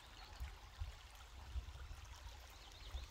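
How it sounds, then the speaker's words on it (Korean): Stream water flows steadily past a riverbank of wildflowers with a faint, continuous trickle and gurgle, low-level and alone, with occasional soft low thumps. "개울 물소리와"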